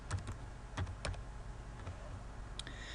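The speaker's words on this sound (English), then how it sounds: "And I'm going to type in here" Fingers type on a computer keyboard nearby, quick soft key clicks in short uneven bursts over a low steady background hum.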